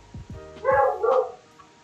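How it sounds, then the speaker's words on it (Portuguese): A dog barks several times in a quick burst, close and fairly loud, with a few yips and a short whimpering tone and no talking over it. "Por causa desses latidos e dessas coisas."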